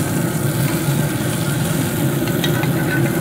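Ribeye steaks with butter sizzle steadily on a Z Grills pellet grill, a continuous close frying hiss with a low fan-like hum underneath and a few faint scraping clicks near the end.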